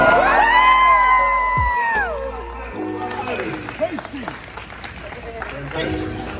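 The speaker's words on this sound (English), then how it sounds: "One more, give a big round of applause." Loud applause and cheering from a fan crowd at a geek convention panel, with whoops and shouts rising over the clapping, then settling into ongoing crowd noise and nearby chatter.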